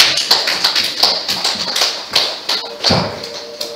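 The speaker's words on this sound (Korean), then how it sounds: "박수 좀 쳐주세요" A small audience claps at a Buddhist sutra lecture, the claps falling in a fairly even, steady rhythm of distinct sharp taps that sound close and fairly loud, with no speech over them.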